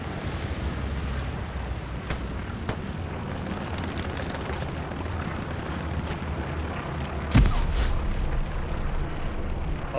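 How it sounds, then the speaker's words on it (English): In the World War II shooter Hell Let Loose, a single heavy grenade blast booms out midway through a low, constant rumble of battlefield noise, loud and sudden above the steady background. "I'm throwing nades."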